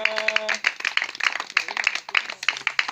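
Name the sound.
children clapping hands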